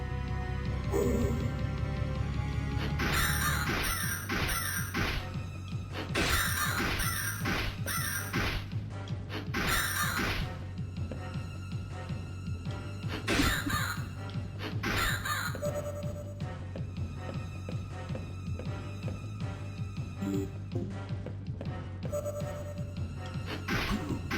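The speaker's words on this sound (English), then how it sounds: "Non-boss enemies turn into crows." Crows caw in the horror game House of Necrosis, several harsh calls repeating in bursts over a steady low background hum, loud and close, with no speech.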